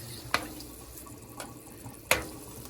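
Hot water runs into a cooking pot of stewing Jamaican-style pork chops, a steady liquid wash punctuated by two sharp clinks, close and fairly loud, with no talking.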